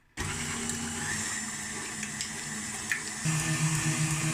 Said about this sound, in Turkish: ilk önce yumurta sarı, yumurta beyazını çırpacağız.